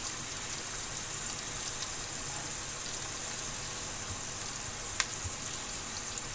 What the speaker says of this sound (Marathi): त्याला आपण चांगला ब्राऊन कलर फ्राय करून घेऊया.